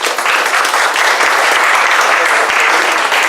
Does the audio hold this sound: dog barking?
no